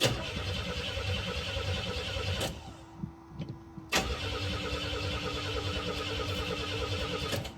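A 1985 Chevy S10 engine cranking without firing after a transmission replacement, the starter whirring steadily and loud up close, then a brief pause before the cranking resumes, with no talk.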